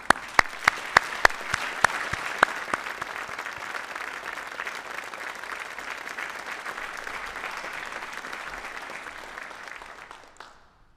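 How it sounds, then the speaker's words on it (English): Audience applause fills a military Hall of Heroes induction ceremony, steady, dense clapping at moderate distance that opens with a few sharp individual claps and fades out near the end. "So let's give them a round of applause."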